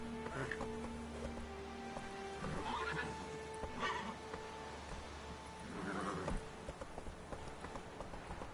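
Roach, the horse in The Witcher 3, gallops along with hoofbeats and gives several neighs and snorts at intervals, fairly quiet against the game's background.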